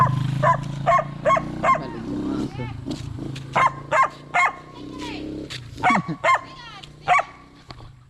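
A dog barks repeatedly in short bursts, some sharp and yelping, close by, while people talk in the background between barks.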